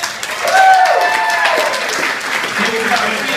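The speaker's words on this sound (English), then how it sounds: "Let's hear a big round of applause for Justin." A comedy club audience breaks into loud, dense applause for the comic Justin, with cheers and voices mixed into a steady roar of clapping.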